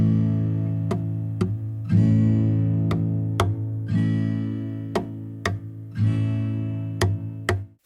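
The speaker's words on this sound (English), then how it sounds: "The first is to strum down once and then tap the wood of your guitar with your fingers just below the strings," On an acoustic guitar, a single downstrum alternates with a percussive finger tap on the wooden body below the strings. The pattern repeats in a steady rhythm of about eight sharp hits over ringing chords, played close and clear with no talking.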